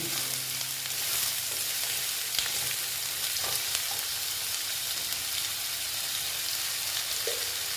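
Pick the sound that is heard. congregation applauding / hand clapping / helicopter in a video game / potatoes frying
potatoes frying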